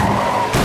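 Cartoon car skids into an accident, a short loud burst of engine and tire noise that shifts abruptly to a harsher crash-like roar near the end.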